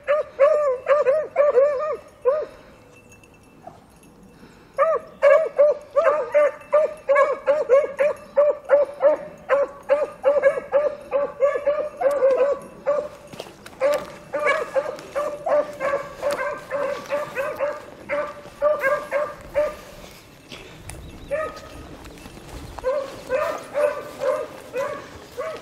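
Beagles bay and yip steadily while trailing a rabbit, a dense run of close barks that pauses briefly and then carries on in an uneven, excited rhythm with no talk.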